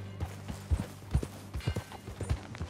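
Horse hooves clip-clop in a steady trotting rhythm in the Western open-world game Red Dead Redemption 2, close and distinct with soft thuds on dirt and faint ambient background, no talking.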